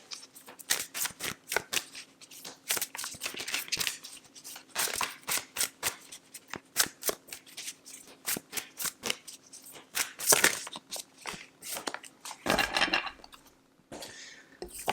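Moonchild Tarot cards being shuffled and drawn: a long run of crisp, rapid riffling and snapping flicks in irregular bursts, close and fairly loud, with a denser rustle near the end and no talking.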